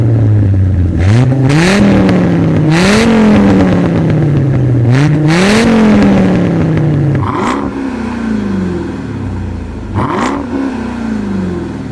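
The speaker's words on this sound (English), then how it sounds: "Now, before we get going, Andre, let's do a rev battle and see which one sounds better." Dodge Viper and 2026 Dodge Durango Hellcat engines revving in turn, loud and close, with repeated rising blips and sweeping pitch that fall back between throttle stabs, alone without talk.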